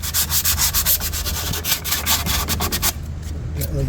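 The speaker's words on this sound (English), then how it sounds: "I'm going to just sand down the inner surface of the drum" Abrasive sanding of the inner braking surface of a 1972 Volkswagen Variant brake drum, a loud, steady rasping rub in quick back-and-forth strokes that eases off near the end.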